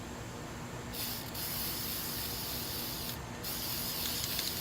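Close bursts of aerosol spray paint hiss as flowers are sprayed a new color, starting and stopping in short blasts over a steady background of noise, with no talking.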